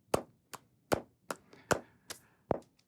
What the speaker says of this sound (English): I'm clapping twice as fast as the pulse.